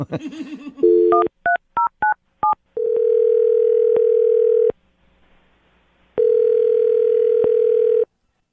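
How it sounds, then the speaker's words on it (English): A telephone call being placed: a short low tone, then a quick run of separate touch-tone dialing beeps, followed by two long, steady ringback tones with a silent gap between them. The sounds are loud and close, with no talking. "I'm going to dial him right now, get him on the phone"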